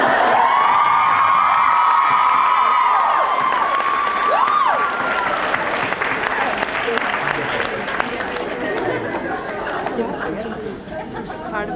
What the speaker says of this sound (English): We're gonna even get a smattering of applause for that.